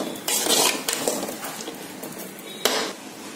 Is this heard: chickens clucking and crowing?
no